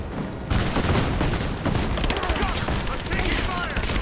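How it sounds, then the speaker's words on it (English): Gunfire in the video game Rise of the Tomb Raider, a dense, continuous barrage of rapid shots and booms, loud and close. "I'm taking fire!"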